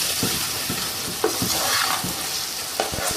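Onion paste with ginger garlic paste sizzling in a pan for chicken bharta, with a steady fry hiss and repeated scraping strokes of a spoon stirring it, close and moderately loud.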